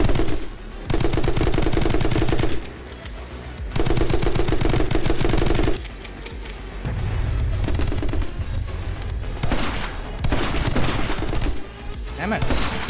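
In the video game My Friend Pedro, guns fire in loud, rapid bursts. Long stretches of continuous shooting alternate with brief pauses and more scattered shots.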